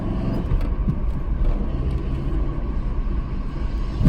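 A 1993 Dodge Caravan with a five-speed manual gearbox, its engine droning as a steady low rumble heard from inside the cabin. The note holds fairly even through gear changes, with a slight swell near the end and no talk.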